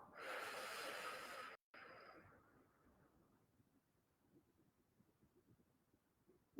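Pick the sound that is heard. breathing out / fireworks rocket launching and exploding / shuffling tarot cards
breathing out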